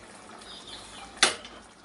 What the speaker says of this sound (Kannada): ಸ್ವಲ್ಪ ಇದಕ್ಕೆ ನೀರು ಹಾಕ್ಕೊಳ್ಳಿ.